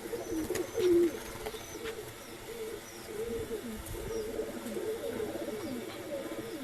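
Pigeons kept for sale in Bangalore coo softly in low, throaty bursts, with a louder coo near the start and faint chirps scattered over steady background noise; no one speaks.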